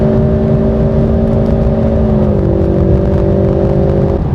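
A Ford Mustang engine in Sports Plus mode with manual paddle shifting hums loudly and steadily while driving, holding a sustained tone that dips slightly in pitch partway through.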